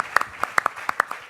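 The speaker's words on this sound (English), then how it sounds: "Round of applause for her." A few people in a summit panel audience clap for a speaker about refugees, sparse separate handclaps in an uneven rhythm, close and fairly loud over a quiet room.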